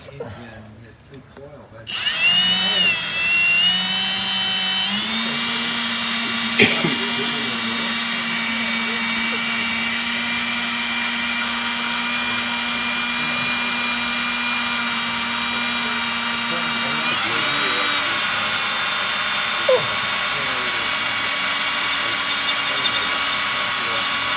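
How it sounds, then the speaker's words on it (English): A power drill whines steadily as it bores a hole in a 1962 Ford Thunderbird, its pitch holding nearly constant for over twenty seconds, close and fairly loud. "it's drilling a hole in it"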